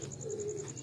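Performing pigeon cooing, a short low soft coo heard close up over a faint steady hum.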